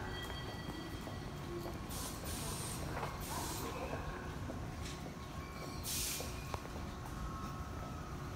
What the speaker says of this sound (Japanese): 亀戸線ですね、2両編成のワンマン列車が、